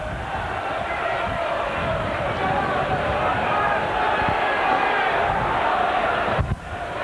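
A large crowd at a 1992 League Cup football match between Grimsby Town and QPR roars steadily and loudly after a goal, a dense sustained cheer filling the stadium with no break.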